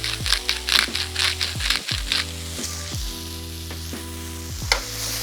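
Pasta primavera with olive oil and cracked pepper cooks in a pan over medium-low heat, giving a close, steady sizzle with crackles and bursts of tossing at the start, over a low tonal hum.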